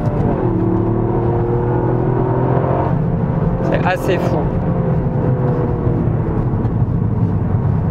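Toyota GR Yaris three-cylinder hot hatch pulling hard on a mountain road, a steady loud engine drone with rising harmonics and tire and wind roar, while someone talks over it inside the car.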